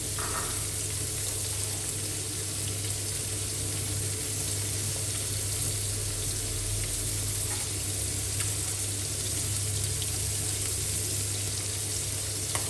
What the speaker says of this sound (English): Add the sliced pork and let it fry.